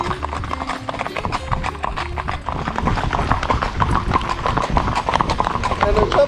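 Steady rhythmic clip-clop of a gaited horse's hooves on hard ground, a quick even gait continuing throughout, close and moderately loud.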